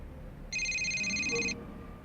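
An old-style telephone bell rings in the supernatural detective adventure game Adam Wolfe, one steady burst of about a second, clear and prominent over a quiet background.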